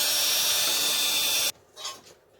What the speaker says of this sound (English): I really needed to use the bench vise to drill these holes